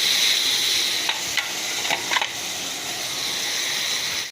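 Tomatoes with salt sautéing in a pan give off a steady, close hiss of sizzling, with a few soft clicks of stirring partway through.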